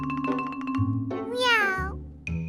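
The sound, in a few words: child imitating a cat meowing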